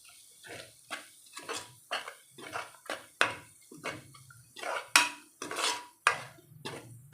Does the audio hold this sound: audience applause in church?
no